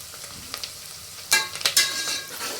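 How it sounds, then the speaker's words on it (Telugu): Curry leaves dropped into hot oil for mutton kheema curry, with a steady background sizzle that bursts into loud crackling and spattering partway through and then keeps frying. "కరివేపాకు వేసుకున్నప్పుడు వేసి కొద్దిగా ఉండండి, ఎందుకంటే మీద ఆయిల్ వెళ్తుంది"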